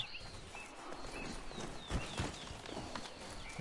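Horse hooves clip-clop in the video game Horizon Forbidden West, a soft, quick series of walking steps under faint ambient game sounds and bird calls.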